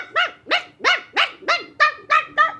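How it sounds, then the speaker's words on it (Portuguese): A pinscher barks in a steady series of eight sharp, evenly spaced yaps, close and loud, with nothing else behind it. "Esse é um pinche."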